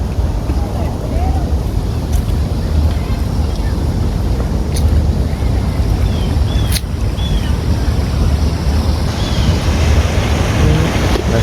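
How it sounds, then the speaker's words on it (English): A man-made waterfall beside the cattle drive sculptures in a Dallas plaza produces a steady, full rush of falling water throughout, with faint chirps and a few light clicks on top. "waterfall, man-made waterfall."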